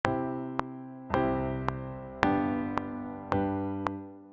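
Keyboard notes are struck in quick pairs, each chord hit twice then left to ring and fade, clear and alone.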